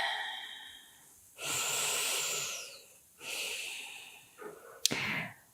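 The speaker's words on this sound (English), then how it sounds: "And breathing here." Slow, deep breaths during a gentle pregnancy yoga flow: two long audible inhales or exhales, then a shorter breath ending in a sharp snort-like puff, close and quiet.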